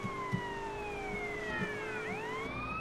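Police car siren wailing during a chase in the video game GTA San Andreas, several sweeping siren tones gliding down together, loud and steady over a low game-engine drone with no talking.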